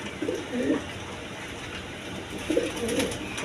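Pigeons sitting on a nest with two eggs give soft, low cooing calls in two bursts, near the start and again near the end, over a faint steady background hum.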